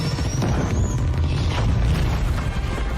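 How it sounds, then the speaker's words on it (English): Creeper explosion from A Minecraft Movie, a loud, sustained deep boom with dense rumbling low end that fills the whole three seconds without letup. "that's not how creepers exploding works"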